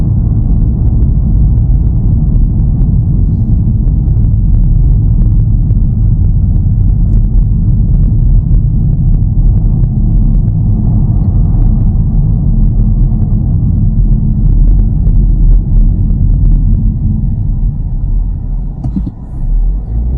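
Steady low road rumble and engine drone fill the cabin of a 2024 Kia Seltos AWD as it cruises with the air conditioning switched off, a constant hum with no talking.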